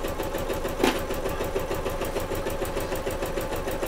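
A home sewing machine runs steadily for a few seconds, stitching near the edge of fabric for a bag and reversing its stitch, with a brief louder clunk partway through; no one talks.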